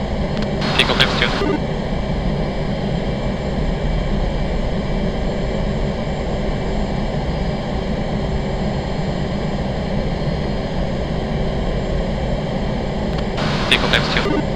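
Military jet engine roar in a flight simulator game, a steady loud broadband rumble filling the whole stretch as the aircraft takes off, with brief radio-like crackles near the start and end.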